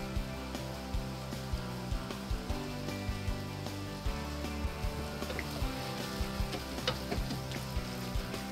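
Ground meat and onions fry in a pan for homemade spaghetti sauce, a continuous soft sizzle with scattered pops and occasional stirring clicks, fairly quiet and without voices.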